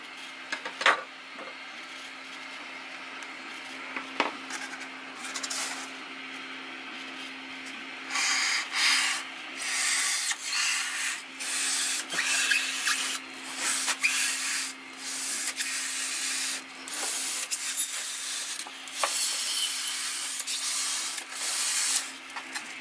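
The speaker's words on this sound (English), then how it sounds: "What I want to do is just trim the end off to square it up." The end of a model display base for a 1/350 scale Queen Elizabeth battleship being trimmed square, with steady rhythmic abrasive scraping strokes close by that pick up partway through and continue unbroken.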